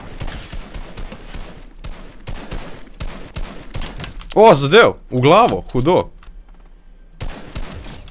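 Gunfire in Fortnite, several bursts of rapid shots clustered in the middle, loud against game ambience, with someone talking casually throughout.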